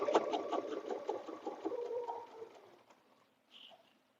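A sewing machine quilting a butterfly bed runner runs in a steady, fairly quiet burst that slows and fades, then a short faint sound follows near the end.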